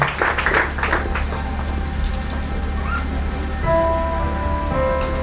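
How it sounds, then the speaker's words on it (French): Audience applause at a graduation ceremony: a steady, dense clapping wash fills the hall from start to finish, with a tonal sound rising near the end. "Je vous demande s'il vous plaît de l'applaudir chaudement, s'il vous plaît. Encore plus fort"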